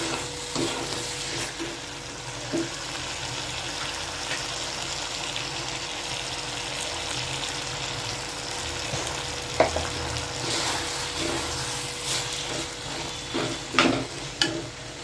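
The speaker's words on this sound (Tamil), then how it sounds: "இறால் நல்லா வதங்கிடுச்சு." Steady frying sizzle of prawns sautéing in a pan for prawn gravy, with occasional stirring clinks and scrapes, continuous and moderately close, no voices.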